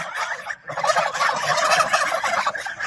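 A goose gives a rapid, throaty gobbling call, loud and close, after a short pause, continuing steadily without speech.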